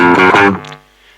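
A distorted chord on a Dean C350F electric guitar rings out loudly, then decays and fades into quiet sustain after about half a second.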